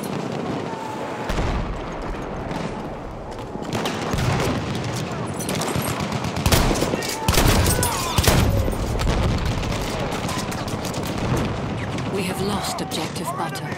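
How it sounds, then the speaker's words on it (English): Machine gun fire in the Battlefield 1 video game, dense bursts and booming explosions churning continuously at close range, with voices speaking over the battle. "Enemy machine gun over there."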